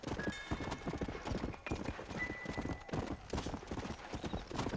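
Horse hooves gallop in the video game Red Dead Redemption, a fast, steady clip-clop rhythm close up with faint tack jingle and a brief whinny-like tone.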